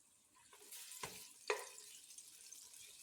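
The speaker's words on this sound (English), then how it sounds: "We're gonna let this bacon just saute a little bit" Bacon sautéing in oil in a pan, a quiet soft sizzle with a couple of brief clinks or stirring scrapes, fairly faint and close.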